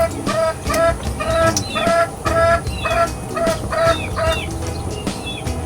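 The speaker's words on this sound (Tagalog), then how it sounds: "Daming manok dito." Many chickens cluck nearby, repeated clucks in an irregular, bouncy rhythm, loud and close, with no talking and a steady hum underneath.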